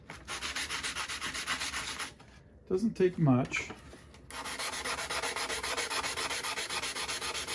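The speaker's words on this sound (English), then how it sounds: "Some 220 grit here. I'm just using a sanding block instead of my finger" Metal pinball parts are sanded with 220 grit paper on a sanding block in steady rhythmic rubbing strokes, close and fairly loud, pausing briefly while a voice speaks, then resuming.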